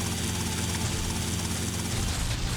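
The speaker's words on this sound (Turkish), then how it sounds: "Yukarıda polis helikopterini alıp devam edeceğim." A police helicopter in the GTA Vice City mod Tightened Vice gives a loud, steady rotor and engine drone that fills the whole moment without pause.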